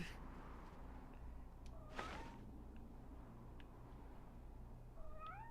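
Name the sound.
kitten meowing in the video game Superman Returns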